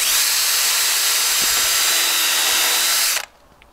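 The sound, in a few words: power drill countersinking with drill bit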